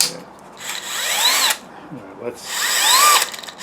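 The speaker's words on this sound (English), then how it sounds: "size F drill fits in there just fine" A power drill with a size F bit whines in two bursts, its pitch rising as it bites, with a short spoken word between them.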